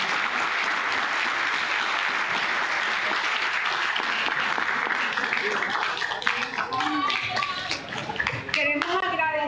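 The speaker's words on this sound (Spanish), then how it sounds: "Queremos darle un aplauso." Steady, loud audience applause for a speaker at a conference on the Fourth Industrial Revolution, the clapping thinning out as voices begin talking over it near the end.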